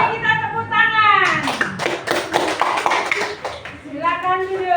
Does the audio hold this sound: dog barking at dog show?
no